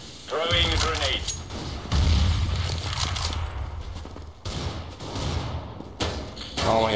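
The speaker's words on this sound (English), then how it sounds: "Throwing a grenade." Grenade blasts and gunfire in a CS:GO pickup match, a series of heavy booming thuds and bursts of shots rolling one after another, loud and close.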